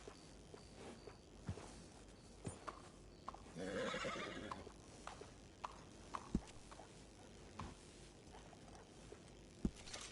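A horse in a video game gives a loud whinny in the middle of the clip, with scattered hoof clops and small mechanical clicks before and after it.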